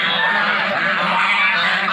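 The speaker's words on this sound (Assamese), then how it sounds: "কি ডাঙৰ ডাঙৰ হাঁহ, এইটো ৰাজহাঁহ" Large geese (raj hanh) at a temple in Nalbari honk together in a loud, continuous, overlapping chorus, close by and with no talk over it.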